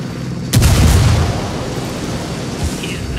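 A frag grenade goes off in Ghost Recon Wildlands, one loud booming blast that rolls out into a long rumbling decay, with a smaller thump toward the end.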